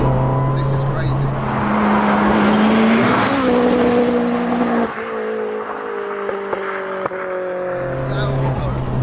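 Track-prepared Audi A3 1.8T making 522bhp, driven hard on a circuit: loud engine howl rising in pitch through the gears, a sharp shift and drop, then lower revving with brief pops, heard from inside the car.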